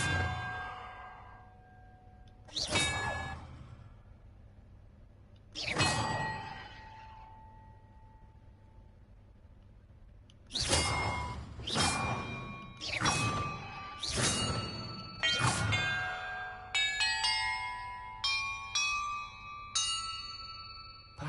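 Bells rung in a puzzle in the Hogwarts Legacy video game: a few widely spaced struck tones, then a quicker run of clanging strikes, ending in bright, overlapping chimes that ring on, with no speech.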